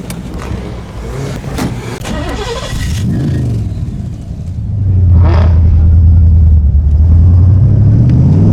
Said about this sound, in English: cars are just starting up, getting ready to leave for this very short convoy